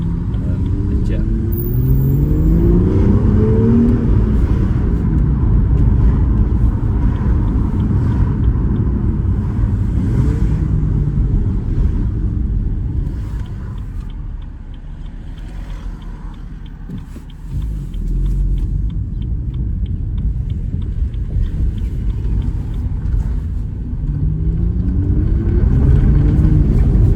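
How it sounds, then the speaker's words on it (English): A 2017 BMW M2 manual (F87) with N55 3.0-litre engine rumbles loudly and steadily, revs rising and falling with rev matching, dipping quieter midway before building up again. "you can hear the rev match working"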